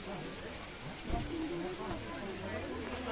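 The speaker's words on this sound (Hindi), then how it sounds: "बारिश हो गई" Steady rain falls in a hilly outdoor spot near Almora, Uttarakhand, a constant patter and hiss with a brief louder thump, while voices talk softly underneath.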